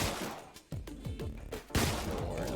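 Enemies firing 9mm guns in the Deadbolt video game, a few sharp shots in quick succession with ringing tails, fairly quiet, followed by a louder blast near the end.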